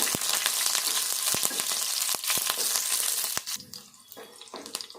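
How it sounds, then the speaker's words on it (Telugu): Onion pieces fry in a pan for a brinjal-onion dish, a loud steady sizzle broken by sharp clicks and taps for about three and a half seconds before dropping to a quieter crackle, with no one talking. "ఉల్లిపాయ ముక్కలు వేగాలి."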